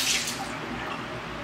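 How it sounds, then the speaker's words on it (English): Water runs steadily from a tap into a sink while wetting a towel to wipe off lip scrub, a close, even splashing hiss with no talking. "all I do is that I just get a little bit of water"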